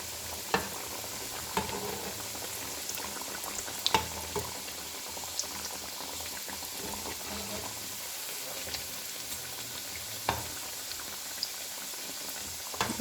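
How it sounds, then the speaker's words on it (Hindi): Round samosas with aloo and cheese filling fry in oil over a medium-low flame, giving a steady, even bubbling sizzle from close by with faint clicks, no talking. "मीडियम टू लो फ्लेम रख के मैं जो है इसको फ्राई कर रही हूँ।"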